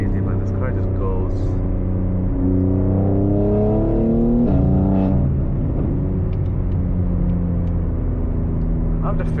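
A BMW G80 M3 LCI with S58 engine, secondary cat and resonator delete, pulls hard under full acceleration, its loud, rising exhaust drone climbing steadily through the gears from inside the cabin.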